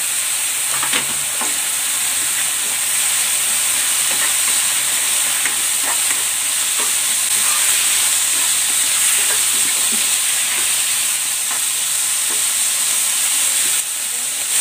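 Pork liver frying in a pan, a steady close sizzle and hiss running the whole time with occasional soft stirring clicks, no voices.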